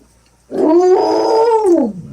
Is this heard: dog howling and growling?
yes